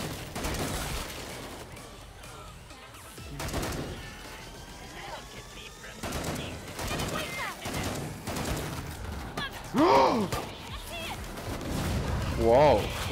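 Weapon fire in the video game Killing Floor 2, bursts of shots and impacts mixed with game effects and monster noises, continuous and busy throughout, with a voice talking over the action.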